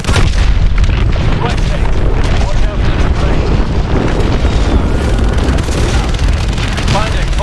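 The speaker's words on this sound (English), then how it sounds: "Lock onto those hard points and hit them with your missiles." Missile strikes and booming explosions from a fighter jet attack on a hydroelectric dam in Call of Duty Advanced Warfare, loud and continuous, with rumbling blasts layered over one another and faint radio voices underneath.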